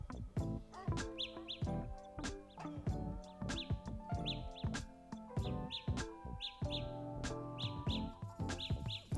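Samsung Galaxy Buds emit their Find My Earbuds locator tone, a rapid, repeating electronic chirping like a small bird, loud and close, pulsing in irregular bursts throughout.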